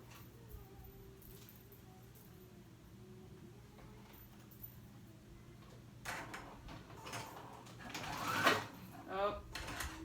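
A sewing machine edge stitching a swimsuit hums quietly and close, running faintly under low background noise before louder handling and rustling bursts near the end.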